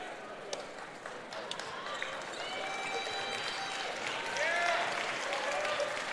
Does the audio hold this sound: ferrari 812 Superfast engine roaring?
no